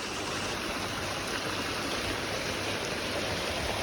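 Floodwater rushes in a swollen stream during heavy rain near Kullu, a dense, loud, unbroken roar of churning water close by with no voices.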